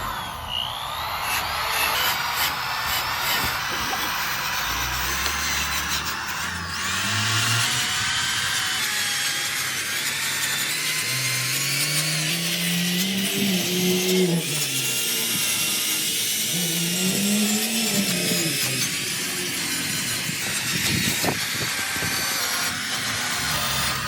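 A heavy-duty corded power drill whirs and grinds while scrubbing old mineral buildup off a Champion evaporative swamp cooler, its motor pitch rising and dipping under load for a sustained stretch.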